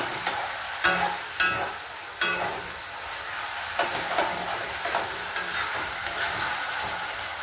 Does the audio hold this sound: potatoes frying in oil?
yes